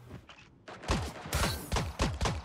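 Gunfire in the video game Creative Destruction, a run of sharp reports with a few quick shots followed by several heavier bursts spaced about half a second apart, loud and close.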